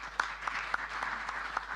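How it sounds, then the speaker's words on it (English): Scattered applause from a conference audience at an opening ceremony, faint and distant, with a few sharper isolated claps standing out over a thin, steady patter. "another big round of applause for our leaders panel"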